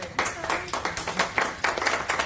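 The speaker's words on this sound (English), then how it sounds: "With rousing applause, please help me to welcome Connie Kercher." A small business-event audience claps to welcome a presenter, giving fairly sparse, distinct hand claps in an uneven rhythm for a couple of seconds.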